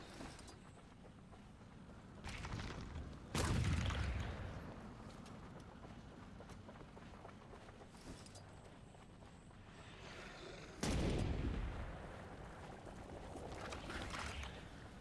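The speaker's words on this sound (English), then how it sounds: "Everyone get on a mortar and open fire" Mortar artillery fires in Guild Wars 2, with two heavy booming blasts a few seconds apart that roll off into rumble, over a low background of game ambience.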